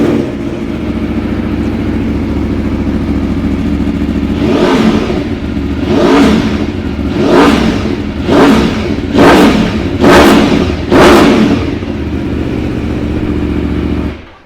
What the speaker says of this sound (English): This one's got the Akrapovic exhaust in it as well, and the fancy link pipe